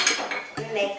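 Ingredients and olive oil stirred in a bowl, giving brisk clinking and scraping of utensil against the dish in a short close burst.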